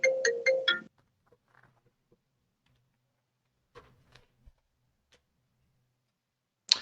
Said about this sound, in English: imagine receiving a phone call this early in the morning